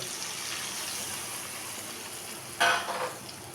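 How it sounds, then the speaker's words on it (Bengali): Water splashes into a pan of frying jackfruit and chicken curry, a sudden burst of pouring and hissing about two-thirds through over a steady low sizzle, fairly quiet and close. "চিকেনটাকে আরেকটু নরম করার জন্য একটু জল দিলাম।"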